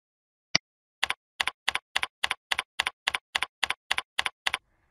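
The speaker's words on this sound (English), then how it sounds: "In the Search Windows box, type File Explorer." Fingers tap out File Explorer on a computer keyboard in the Windows search box, one early click and then a dozen evenly spaced crisp keystrokes, close and clear with no talking.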